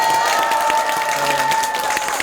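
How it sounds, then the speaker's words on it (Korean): A crowd at a Democratic Party members' event gives loud, sustained applause with some cheering, welcoming a lawmaker back to the party; the clapping is dense and continuous, with a steady tone and faint voices underneath. "박수 한번 세게 한번 보내주세요"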